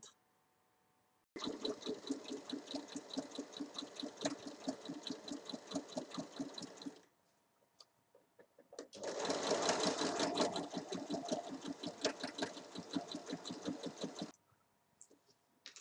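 A sewing machine runs in two long bursts of fast, even stitching, joining the four sides of an elasticated cloth napkin, close and clear with a short pause between runs.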